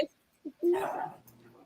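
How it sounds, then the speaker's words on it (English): A lively dog bounces around indoors and gives a short bark, then a longer yelping, whining outburst, fairly close and loud, with brief voice sounds around it. "I have a crazy dog bouncing around."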